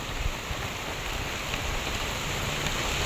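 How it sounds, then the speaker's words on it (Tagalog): Heavy rain and gusting wind from Typhoon Pepito, a dense continuous roaring hiss that stays loud and steady throughout. "Nalakas-lakas na din po ang ulan niya."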